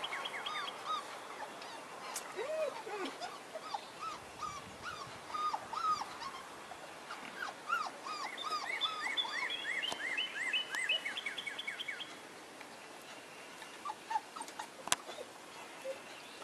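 Puppies whimper and yip in a busy, overlapping chorus of high, thin cries, fairly close and continuous for most of the stretch before thinning out near the end, with no voices.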